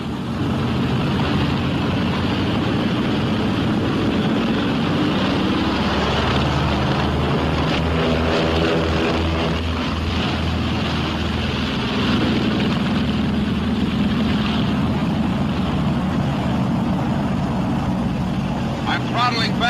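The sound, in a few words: B-26 Marauder bomber engines during takeoff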